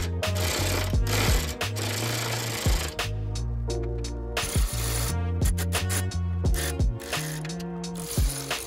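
Power tool fastening the headlight bolts on a 2006-2011 Honda Civic, loud bursts of ratcheting impact-driver whirring that start and stop repeatedly, close up with no talking.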